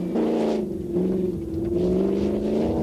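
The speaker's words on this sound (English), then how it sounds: "Number 9, Dan Evans and Simon Jackson in a TDI 90 are speeding along as well" A TDI 90 rally car speeds along a stage of the 1993 Welsh Hill Rally, its engine droning loud and steady, with pitch shifts as it changes gear.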